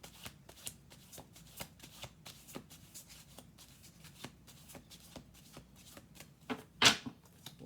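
Tarot cards are shuffled by hand in quick, soft riffling flicks, ending with a sharper, louder burst near the end.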